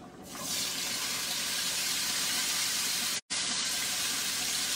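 Tap water runs steadily into a kitchen sink while food is rinsed for a surf and turf pasta, a constant close hiss with one abrupt brief dropout near the end.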